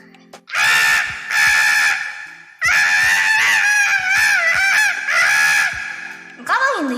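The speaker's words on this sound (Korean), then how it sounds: "이거 까마귀 아닌가?" Loud, harsh crow caws repeat in long drawn-out bursts, separated by short pauses, close and dominant, with a brief lower squawk at the end.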